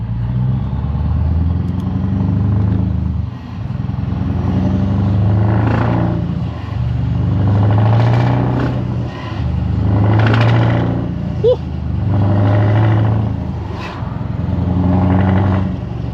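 A Scania R500 V8 truck engine with loud exhaust drones loudly up close, its revs climbing slowly in repeated waves, each dipping briefly as the gears shift automatically.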